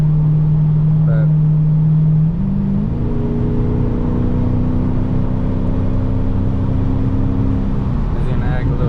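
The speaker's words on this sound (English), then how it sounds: "you can still hear the pops going this speed on the freeway" Dodge Scat Pack exhaust droning steadily at freeway speed, its tone stepping up as it accelerates, with faint pops, under wind and road noise and someone talking.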